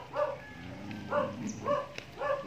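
A dog barks in repeated bursts, four or so evenly spaced woofs with a slight yip, mid-distance outdoors in a mountain town in Banaue, Ifugao, with faint background noise.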